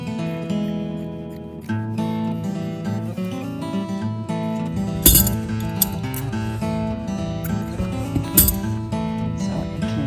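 Scissors trim the edge of a vintage quilt, giving a couple of short, crisp snips over steady background music.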